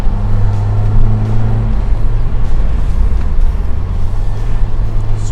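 Opel Kadett GSi Superboss driving along the coastal Clarence Drive, a loud engine hum with road noise and a brief surge of revs, close and continuous.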